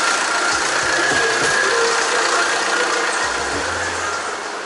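A car engine that has just been started runs with a rough, knocking rattle, idling steadily and loudly with a few low thumps, then continues alone without speech.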